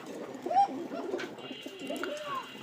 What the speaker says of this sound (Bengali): আজ কিছু রাজশাহী গিরিবাজ কবুতর দেখাবো।